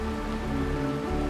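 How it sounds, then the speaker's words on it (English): Steady rain falls in the video game Honkai Star Rail, a soft, even patter that runs without pause and without voices. "This is the sound of rain."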